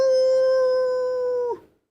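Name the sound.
wolf howl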